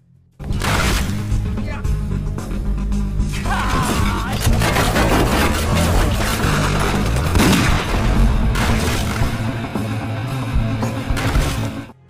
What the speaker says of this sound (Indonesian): seketika aksi baku tembak pun tak terhindarkan